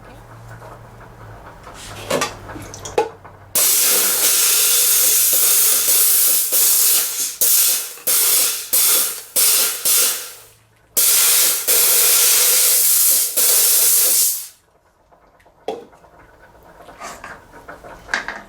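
A jewelry steam cleaner sprays loud, harsh hissing bursts of steam at a piece of jewelry, with long blasts broken by short stops and quieter handling noises before and after.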